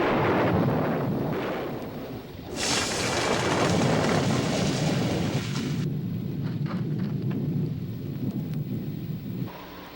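Thunderstorm sound effect from the 1997 film Things 2, a loud continuous rumbling roar with rain-like hiss and a burst of bright noise in the middle, sounding more like a crash or quake than natural thunder.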